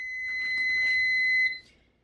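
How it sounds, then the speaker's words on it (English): A kitchen timer beeps nearby while salmon patties bake, giving a steady high electronic tone for about a second and a half before cutting off, with no talk over it. "my timer just went off for my patties"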